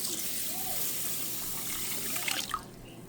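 Water poured into a pot of about three cups of rice for a pork loin dinner, a steady close rush of liquid running throughout with a brief splashy rise near the end.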